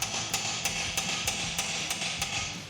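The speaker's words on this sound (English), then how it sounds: "take your hammer, just lightly tap the front of this" A hammer lightly taps a bolt on a brake caliper of a 2015-2023 Mustang, giving eight evenly spaced, sharp metallic knocks at close range, each about a third of a second apart, with no talking.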